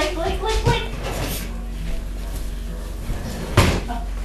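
A door swings open and bumps into something, giving a couple of knocking thuds amid voices and household background noise.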